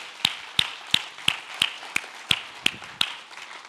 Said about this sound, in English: let's give them a round of applause for all that